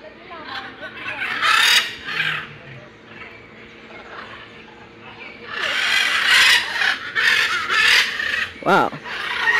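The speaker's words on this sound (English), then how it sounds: "Blue and gold macaw." Blue and gold macaws calling loudly at a mall in Trinidad, harsh squawks in bursts with a loud cluster toward the end, over background chatter and crowd noise.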